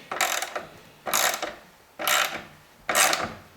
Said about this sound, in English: then I can adjust it just by using this socket wrench